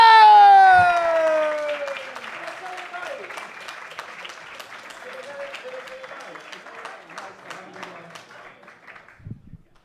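A comedy club audience applauds and cheers as a comedian is introduced. The clapping is loudest at first, with a cheer, then tapers into scattered, lighter applause.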